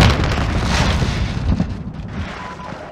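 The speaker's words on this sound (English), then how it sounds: "Grenade out!" A grenade blast in a first-person military shooter game, heard as a loud, dense booming rumble that fills the whole three seconds and fades slightly before a sharp cutoff at the end, with no voices over it.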